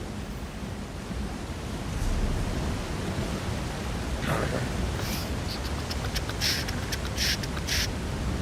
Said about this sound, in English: This waterfall is so loud.